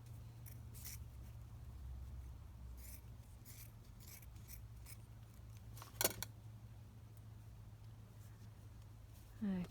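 Scissors snipping fabric scraps, a few short sparse cuts spread over a low steady hum, close but quiet, with one sharper snip partway through.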